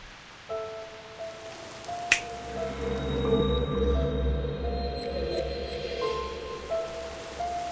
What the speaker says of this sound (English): I've never seen rain fall upwards.